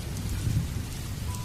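Steady rain falls through a night storm with a low, continuous rumble of thunder, a dense wash of sound heard alone without voices.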